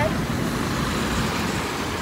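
Tempo vans pull away on the road from Khopoli, forming a dense, continuous rumble of engines and traffic close by, with people talking over it.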